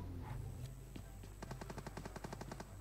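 Distant automatic gunfire in PUBG Mobile, a faint single shot early on followed by a rapid run of about a dozen evenly spaced bursts, soft and far off over low background rumble.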